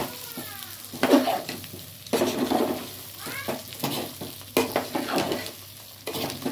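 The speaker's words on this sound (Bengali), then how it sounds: "এবার এটা আমি নাড়বো" Food fries in a pan with a constant sizzle while a utensil stirs and scrapes it in repeated sweeps. The sound is close and steady, with faint background voices.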